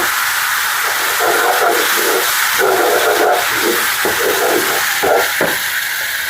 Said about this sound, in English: And now it's time to add in the stock.